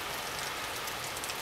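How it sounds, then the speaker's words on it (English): Rain from a freak summer storm over Bologna, Italy hisses in a dense, even wash of drops, steady and fairly close, with no gaps. "Time to rain."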